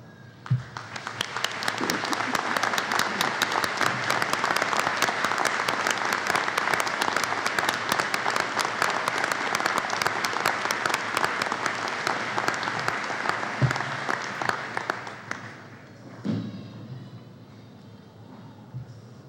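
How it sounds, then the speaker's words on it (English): Sustained applause from a large audience at a Chase College of Law commencement honoring the faculty, a dense roar of clapping lasting about fifteen seconds before tapering off into room noise and a few faint sounds. "ask all the members of the Chase College of Law faculty to stand as you join me by honoring them with your applause"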